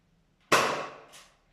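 A Nerf toy blaster fires a dart with a single sharp snap and a short whooshing decay, followed by a fainter click or thud a moment later, close and loud against near silence.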